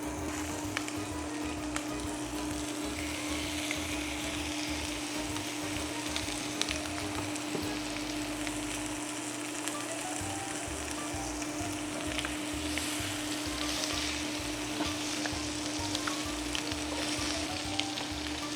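Keto garlic honey chicken thighs frying in a pan, giving a steady, dense sizzle and crackle throughout with occasional faint clinks, at close range and with no talking.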